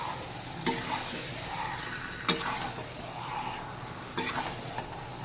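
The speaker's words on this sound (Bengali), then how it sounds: "এবার যে চিকেনটা ম্যারিনেট করে রেখেছিলাম সেই চিকেনটার মধ্যে দিয়ে দেবো। মশলার সাথে এবার মিশিয়ে নেব চিকেনটাকে।" Marinated chicken goes into hot oil with spices for chicken kasha, sizzling steadily while a spoon scrapes and clatters against the pan in a few sharp strokes, close and fairly loud.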